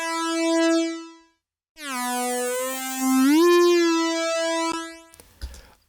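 A bright, buzzy synth lead with wavefolder distortion plays sustained notes with a gritty, harmonically rich edge, a short gap between phrases, then a brief noisy burst at the end.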